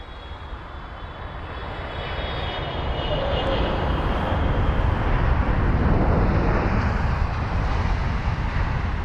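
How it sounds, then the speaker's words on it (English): A Qatar cargo Boeing 777 freighter arriving from Doha lands at London Heathrow, its jet engines producing a broad, steady roar that swells gradually and holds loud, with faint talk beneath. "this Qatar cargo Boeing 777 freighter with the reg Alpha 7 Bravo Tango Alpha, arriving from Doha"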